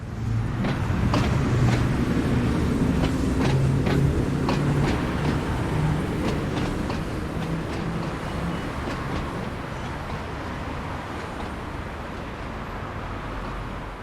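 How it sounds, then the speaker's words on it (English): Class 483 electric train 483010 departing St John's Road station for Ryde Pier Head on the Isle of Wight in 1991, a loud rumbling roar with rhythmic wheel clicks over rail joints, fading gradually as it pulls away. "483010 is seen departing St John's Road for Ryde Pier Head"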